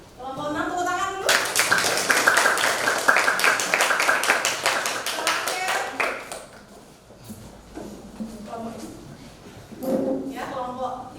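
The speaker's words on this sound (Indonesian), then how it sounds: "Kelompok 6 tepuk tangan dulu." A classroom group claps for a presenting group in a school lesson: a voice speaks first, then a few seconds of close, brisk hand claps that thin out and fade, followed by more talking.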